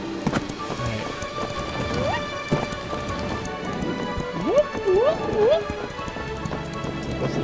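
A horse gallops in the 2015 King's Quest video game, a steady, rapid clip-clop running under game music and chirping effects.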